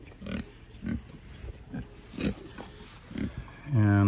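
Pigs on a farm grunt and oink in short low bursts roughly every second, fairly close, with someone speaking softly around them.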